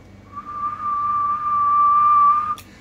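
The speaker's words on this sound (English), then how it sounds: "my whistle would be better if I could" A single clear, sustained whistle into a radio microphone on a Kenwood TS-2000 transceiver, one steady pitch held for about two seconds before cutting off abruptly, with no talking.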